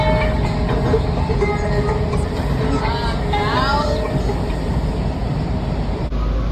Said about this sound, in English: The train speeds back into the tunnel going back underground.